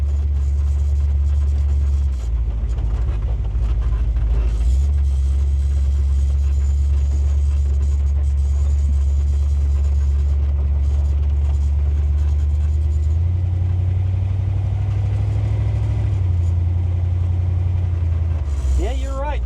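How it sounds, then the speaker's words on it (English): A 1941 Chevy restomod with modern power idles with a deep, steady exhaust rumble, loud and close, its low tone shifting slightly partway through, and people talk over it. "Yeah, it's got a good sounding exhaust."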